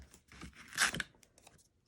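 Adhesive tape is pulled up from fabric in a machine-embroidery bag project, a brief close crackling tear peaking midway, followed by a few quieter small rustles.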